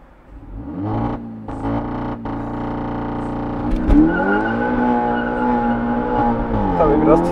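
SEAT Ibiza Cupra Stage 2 with 230 hp held on brake and throttle for launch control, the engine revving hard and then holding a steady high buzz with a few sharp bursts, loud and close.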